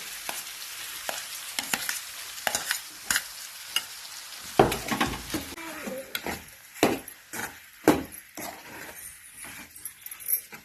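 Mashed potato is mixed with spices in a pan for a bread pakoda filling, giving a run of scraping, stirring strokes and soft squelches from a spoon, close and steady, without any talking.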